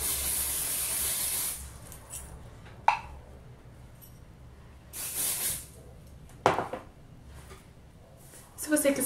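Charme hair spray applied to curled hair in a few separate close hissing bursts, quiet pauses between them.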